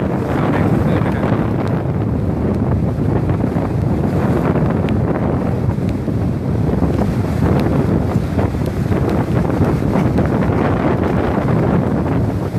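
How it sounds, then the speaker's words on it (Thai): Strong storm wind at the seashore during Storm Pabuk at Pak Phanang, Nakhon Si Thammarat, roaring loud and continuous with heavy gusty buffeting on the microphone, surf likely blended underneath, no voices. "ลมแรงแต่ฝนไม่แรงนะครับ"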